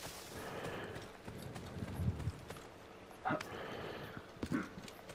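Horse hooves clip-clop in the video game Assassin's Creed Origins, producing a faint, uneven patter of steps over ambient game sound, with a few louder thuds standing out; a voice talks at a low level.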